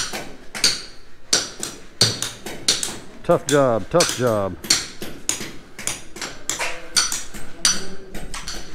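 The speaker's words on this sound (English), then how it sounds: "These guys are trying to chip out the old one bag mixer. And we're doing it all day by hand." Workers chip out an old one-bag concrete mixer by hand at a Philippine house build site, with sharp metallic hammer strikes landing in irregular bursts close by while people talk over them.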